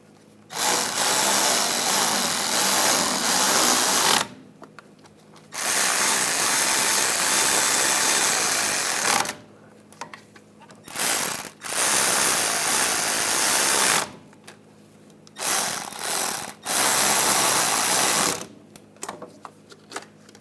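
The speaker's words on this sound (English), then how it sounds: "Now we can just go around and tighten the rest of them." Bursts of ratcheting from a hand ratchet tightening the bolts on a rear CV axle of a 2009-2017 Volkswagen Tiguan 2.0L, several loud close runs of a few seconds each separated by short pauses.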